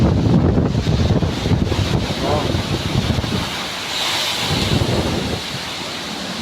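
Typhoon Nika drives loud, gusting wind and storm noise that buffets the microphone in heavy, roaring surges, with a voice exclaiming briefly beneath it.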